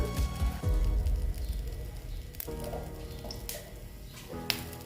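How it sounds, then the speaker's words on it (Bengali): Oil hitting a hot pan while cooking a traditional ash gourd curry, a soft continuous sizzle with a few faint clinks, heard alone without talk. "দেখো এখন আবার তেল দিয়ে দিলাম"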